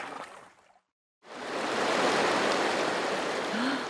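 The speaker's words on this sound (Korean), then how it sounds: "아, 물소리 좋다" Steady broadband rush of flowing water by Chopyeong Lake near Nongdari, the old stone bridge, loud and close after a brief silent gap and briefly preceded by faint singing.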